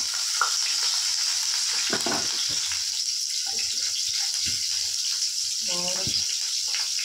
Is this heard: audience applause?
no